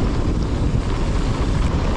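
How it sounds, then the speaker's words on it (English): Strong side wind buffeting a mountain biker on Exmoor, a loud constant roaring rumble of gusts across the microphone with no talk. "Oh, it's a fairly strong side wind there."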